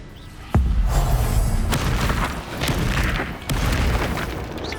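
A Confringo spell blast in the video game Hogwarts Legacy, with sharp booming impacts at the start and again midway, leaving a loud, rumbling, crackling roar of explosion and debris between and after them.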